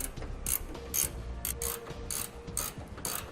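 A ratchet tightens sway bar bracket bolts on a 2002 Itasca Suncruiser motorhome, giving close, crisp clicking bursts in a steady back-and-forth rhythm, with no talk.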